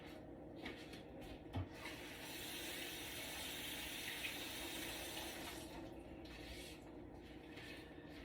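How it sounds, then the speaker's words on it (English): Hands being washed under a running kitchen tap while making carrot cake rice pudding; a steady broadband rush of flowing water continues for most of the time, with a brief knock near the start and no talking. "Let me wash my hand."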